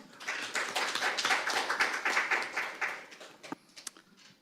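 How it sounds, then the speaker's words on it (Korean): A forum audience on financial policy applauds to welcome a research institute head to the podium, a few seconds of dense clapping that tapers into scattered claps. "여러분 큰 박수로 맞이해 주십시오"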